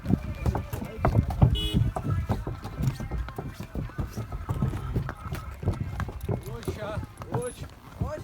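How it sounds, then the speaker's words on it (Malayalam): Horses on a ride in Gulmarg clip-clop along, a dense run of close hoof knocks with no steady rhythm, under people talking. "കുതിരകൾ തമ്മിലൊരു മത്സരം."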